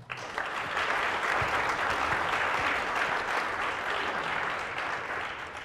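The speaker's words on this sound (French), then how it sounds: "Je pense qu'on peut les applaudir une dernière fois." An audience at the close of a presentation claps together in sustained, dense applause, loud and even for about five seconds before tapering slightly at the end.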